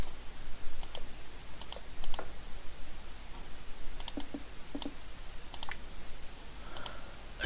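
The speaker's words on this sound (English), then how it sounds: "then I will type in my device" Faint keyboard clicks come in small scattered clusters as a device name is typed into an EKG patient simulator app, all over a steady low hiss.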